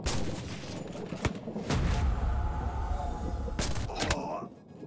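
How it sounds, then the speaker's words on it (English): Sharp gunshots crack from a sniper duel in CRSED F.O.A.D., a few loud reports standing out from a steady din of battle noise, while someone talks over them. "Now I got two guys shooting at me"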